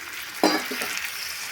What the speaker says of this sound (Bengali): একটু জল দিয়ে মশলাটা কষে নেব।